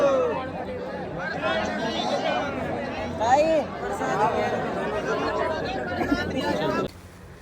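A large, dense crowd of pilgrims at the Khatu Shyam temple, a continuous babble of many overlapping voices nearby, with a few louder calls rising out of the chatter before it cuts off.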